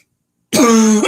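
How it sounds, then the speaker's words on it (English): A single sharp, close cough bursts out after half a second of silence, rough and throaty like a throat being cleared. "Excuse me as I cough in all of your ears"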